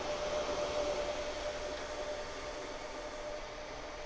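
DTG G4 direct-to-garment printer printing a design onto a t-shirt, giving a steady, close whooshing mechanical hum with a faint constant whine and no talk.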